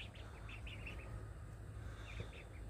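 Ducks kept outdoors after rain, with scattered short calls and squawks rising over a steady background of water noise and outdoor hum, loudest near the start and again toward the end.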